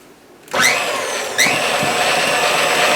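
A KitchenAid stand mixer whirs steadily as it blends flour and baking powder for homemade flour tortillas, starting abruptly from near silence with a rising whine and a second surge partway through, then running on at a loud, even pitch.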